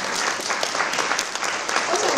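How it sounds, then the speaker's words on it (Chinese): An audience at an English Day bilingual-education event in Hualien claps for the foreign teachers, a loud, continuous burst of applause from a large crowd, close and sustained for the whole moment. "我们是不是给我们所有外师给他们掌声一下？"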